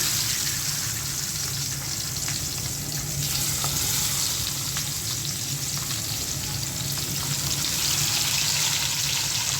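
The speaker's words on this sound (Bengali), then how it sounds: "তেলটা গরম হয়ে গেছে, এখন মাছটা আমি দিয়ে দিচ্ছি।" Loud, continuous sizzling and crackling of fish frying in hot oil, close and steady throughout.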